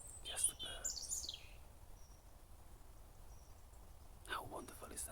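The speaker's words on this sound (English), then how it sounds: "just the birds." Faint, high bird chirps and tweets come in short bursts at the start and end of a quiet outdoor scene in nature, with soft insect-like buzzing and whispery voice sounds between them.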